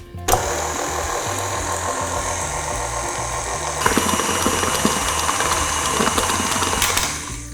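Electric mixer whirring through boysenberry frosting in a home kitchen, a steady motor drone that runs continuously and gets a little louder and busier partway through before easing off at the end.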